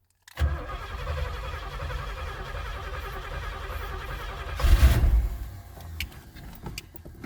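A 1977 Pontiac Trans Am, running on almost no fuel, cranks loudly and steadily for several seconds, then its engine catches with a brief surge in revs before settling down, recorded close by.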